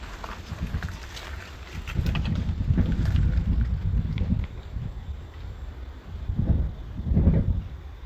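Wind gusts through a giant old hollow wild sator tree in dense rainforest, a steady low rumbling roar that swells around the middle and again near the end, with no talking.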